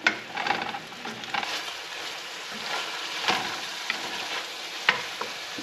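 Rehydrated, drained mushrooms and carrots sizzle steadily in a pan, a continuous close frying hiss broken by occasional scrapes and clicks of stirring.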